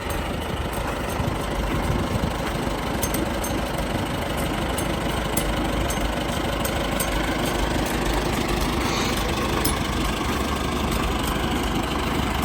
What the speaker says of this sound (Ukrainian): Тут якийсь такий мотор вузький, но довгий.